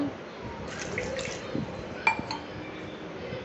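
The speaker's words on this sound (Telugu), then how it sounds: "వాటర్ వేసుకుంటున్నాను." Water poured into a pot of rice for mushroom biryani, with soft splashing, a few dripping and clinking touches against the pot, and one brief sharper clink, close and fairly quiet.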